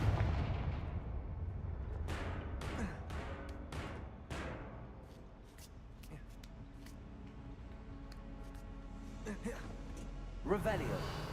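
Confringo fire-blast spell in Hogwarts Legacy, a series of sharp crackling blasts and bursts spaced across the clip with a fading rumble between them and a louder burst near the end.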